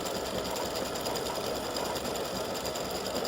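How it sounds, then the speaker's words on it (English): An embroidery machine stitches a free-standing lace St. Patrick's Day horseshoe earrings design, giving a steady, loud, rapid mechanical whirr and needle rattle that runs without a break and with no voices over it. "y'all need to see that it stitches out well."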